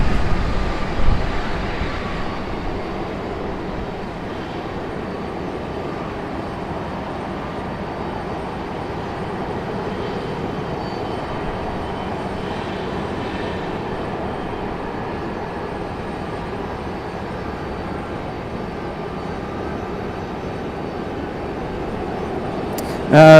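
An American Airlines airliner rolls long down the runway at Raleigh-Durham International Airport, a steady, broad engine and rolling rumble that holds evenly throughout from a moderate distance.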